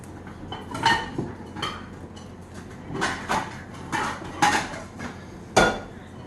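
Plates and bowls clink and clatter as chicken and dumplings are dished up, with a handful of sharp, separate knocks spread irregularly over a low kitchen background.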